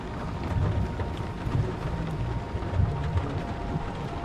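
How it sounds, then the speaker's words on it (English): Steady rain and low rolling thunder rumble throughout a scene in the video game Nobody Wants To Die, dense and continuous with no clear individual cracks. "It's gonna rain."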